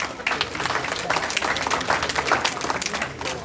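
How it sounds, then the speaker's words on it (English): A crowd at a repast celebration gives Denise McCullough a round of applause, steady hand-clapping from many people in a room lasting a few seconds, with no voices rising above it. "Everybody give Denise a round of applause"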